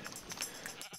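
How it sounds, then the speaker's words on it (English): Baby sheep in Minecraft give a brief, soft bleat amid a busy, noisy game background, heard without any talk. "Four baby sheep"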